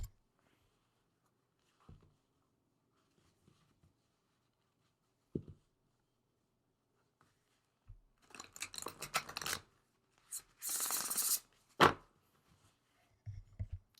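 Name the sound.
shuffling an oracle card deck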